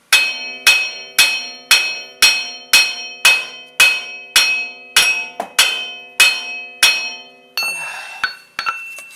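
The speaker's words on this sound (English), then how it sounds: "we're going to attempt removal of this bearing and hub assembly using the hammer of Asgard here" Heavy hammer blows ring out against the front wheel bearing and hub assembly of a 2006 Dodge Dakota, about a dozen loud metallic strikes at a steady pace, each with a bright ringing decay, ending in a few rattling knocks.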